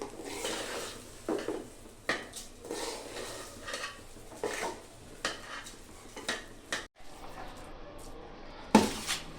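Polao rice frying in a pot on a gas stove, with a utensil stirring and scraping against the metal in repeated soft clinks and scrapes over a low background hiss.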